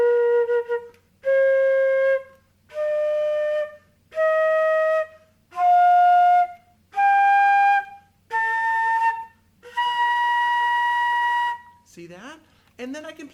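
Eight separate flute notes, each held about a second, step upward in pitch as holes on the woodwind are covered and uncovered, close and clear, followed by a brief rising squeak.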